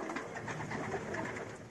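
Homing pigeons coo in a soft, continuous murmur, several birds close together, with a muffled flutter underneath.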